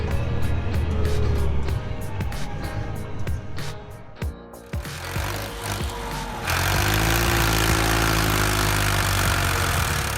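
A John Deere tractor engine roars under heavy load while stuck in mud, a loud continuous mechanical drone with rattling knocks, briefly dipping before surging into a harsher, louder roar toward the end.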